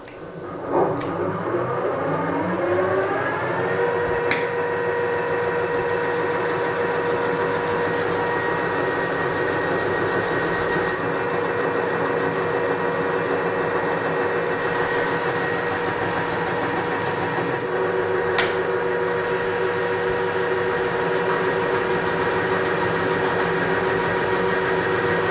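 A milling machine takes a light 0.5 mm cut on an INT30 milling arbor: a steady, loud mechanical drone with sustained tonal whine that holds throughout, with a brief sharp tick partway.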